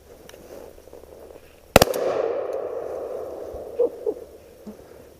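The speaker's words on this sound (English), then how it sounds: "2 shots that would have got it." An Armsan semi-automatic shotgun fired during roost shooting outdoors: one sharp, loud blast followed by a long decaying rumble and echo, with a couple of fainter knocks afterward.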